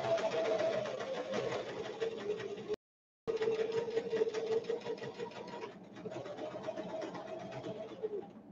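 A sewing machine stitching lace runs in a fast, steady mechanical whir, close by, pausing briefly once before stitching on continuously.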